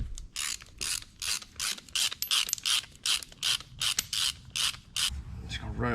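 Ratchet turning a bolt into a Hemi engine, a close run of rapid, evenly paced clicking bursts, about a dozen strokes, fairly quiet with no talk.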